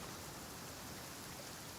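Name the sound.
rain heard from courtyard in video game Genshin Impact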